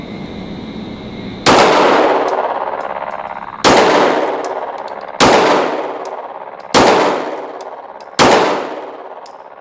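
Five loud, close pistol shots fired slowly at targets during a warm-up drill at a range, each a sharp crack with a long ringing decay, spaced roughly one and a half seconds apart, with faint metallic pings from the steel targets.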